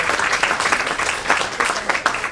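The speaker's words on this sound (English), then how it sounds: "Let's give her another round of applause." Audience applause at a community celebration of a collaborative project in Paterson's Great Falls Historic District, steady dense clapping from a crowd throughout, fairly close and sustained without pause.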